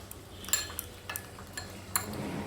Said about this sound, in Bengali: আর জল দিয়ে খুব ভালো করে সমস্ত মশলাটা মিশিয়ে নিচ্ছি।